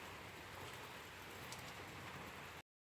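Steady rain falls during a thunderstorm, a dense even hiss that runs for a few seconds and then cuts off into silence.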